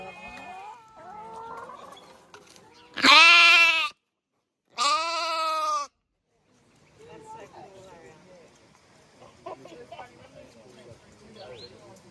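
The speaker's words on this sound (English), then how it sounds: "In this paddock, we've got a bull and some heifers and some feral goats." Feral goats bleating in a paddock that also holds a bull and heifers, two loud drawn-out bleats close by, separated by a short pause, with outdoor talk before and after.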